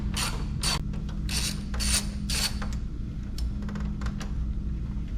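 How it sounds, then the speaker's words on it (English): A ratchet works loose 10mm bolts on the bottom of a 2024 Ford F-150 truck grille, with several bursts of clicking pawl strokes spread across the clip over a steady low background hum. "So the last two bolts that we're removing, one on each side, there is a 10mm"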